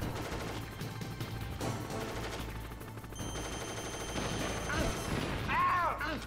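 Bursts of video game gunfire and explosions from a soldier fighting a Hind D helicopter in Metal Gear Solid, with repeated shots, crashes and rumbling under dense in-game noise and music.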